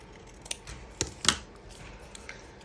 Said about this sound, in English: I'm going to cut off these excess bits here